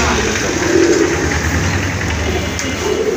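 Pigeons coo at a pigeon farm, soft low throaty calls repeating close by over a steady background hum, with people's voices mixed in.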